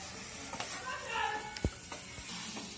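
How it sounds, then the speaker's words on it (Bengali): Chicken pieces lightly fry in a wok over a medium flame, with a soft sizzle and a few stirring clinks and taps, low and steady. "তারপর আমি এটাকে কড়াইতে সব দিয়ে আমি একটু হালকা ফ্রাই করে নেব।"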